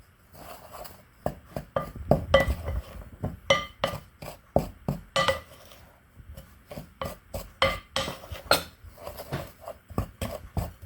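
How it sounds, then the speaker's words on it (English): Dry ingredients for a sweet potato casserole stirred in a bowl, a utensil scraping and clinking against the sides in quick, uneven strokes, close and moderately loud with no talking. "we're just going to give this a little stir for a second. Get all those dry ingredients mixed together."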